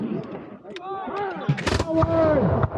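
A musket volley crackles at a Mount Vernon 2024 war reenactment, a few sharp reports bunched near the middle of the clip amid shouted voices and the drawn-out, tonal calls of the reenactors.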